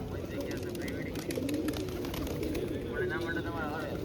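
Pigeons coo softly at an outdoor spot in Udaipur, a low, repeated burbling beneath people talking nearby.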